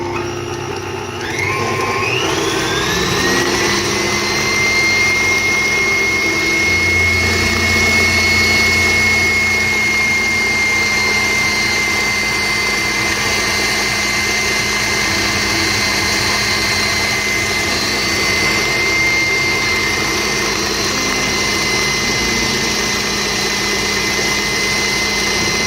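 Electric hand mixer beating lemon cake batter, a steady loud whirring drone with a high motor whine that holds unbroken and close throughout, with no talking.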